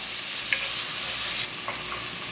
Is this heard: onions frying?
yes